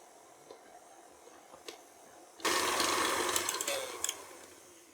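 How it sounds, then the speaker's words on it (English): An electric mixer beating butter, sugar and vanilla in a bowl kicks in midway, a steady whirring buzz with occasional clatter after quiet moments of small knocks. "And I'm gonna mix that until everything is nice and fluffy. And while the mixer is going"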